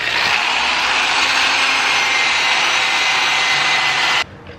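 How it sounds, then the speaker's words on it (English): A drill spins a wire brush removing silicone, with a loud, steady scouring roar, held evenly for about four seconds before it cuts off abruptly. "So I have my drill with my wire brush on it."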